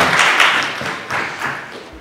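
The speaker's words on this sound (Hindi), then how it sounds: "जोरदार तालियों से स्वागत कीजिएगा" Applause welcoming a guest at a Hindi-Urdu book launch event, a short burst of scattered hand claps that swells and fades within two seconds, fairly loud and close, with no talk.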